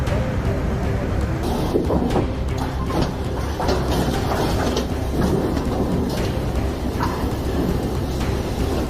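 A powerful thunderstorm in the Memphis area, with heavy rain pouring steadily and low rumbles of thunder rolling through, loud and continuous with no clear breaks.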